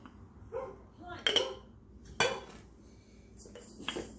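A measuring cup scoops collard greens mixture into a 16-ounce glass mason jar, giving a few sharp clinks and knocks of metal on glass between quiet pauses, close up.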